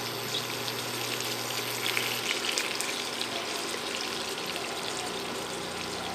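Pork pieces for pork adobo fry in a pan with a steady, moderate sizzle and bubbling crackle, close and continuous with no talking.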